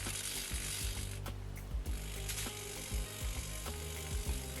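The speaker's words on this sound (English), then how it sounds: "So the motor is turning." A small electric steering motor turns the steering head of a Bruder Ausa dumper toy converted to radio control, giving a run of quiet, rapid mechanical clicks and ratcheting ticks up close, with no voices.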